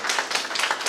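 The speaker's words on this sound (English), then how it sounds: "let's clap for those." A short, brisk burst of audience clapping at a talk on Filipino food, with many hands mixed into a dense patter.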